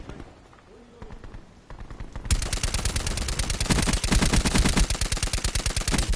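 Sustained machine-gun fire in a video game shooter, starting quieter and swelling into a loud, fast, steady stream of rapid shots that runs to the end.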